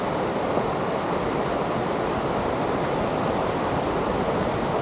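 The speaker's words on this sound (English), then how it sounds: "The river is on today, so nice old white rapids coming off the river there." Whitewater river rapids running high, a steady loud broadband rush of tumbling water with no pauses, heard up close and alone.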